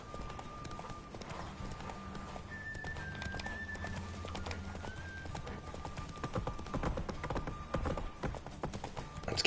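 The horse Roach galloping in a race in The Witcher 3 video game: steady rapid hoofbeats with occasional whinnies, moderately close, under soft game ambience with no talk.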